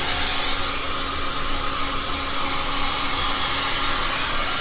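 Steady breathy rush of blown air, loud and continuous, as a hair dryer or heat gun pushes lines through freshly poured resin on white coasters; no talking.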